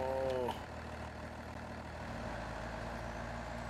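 A truck in the video game SnowRunner opens with a short descending air-brake hiss, then settles into a steady low engine drone that hums on without letup.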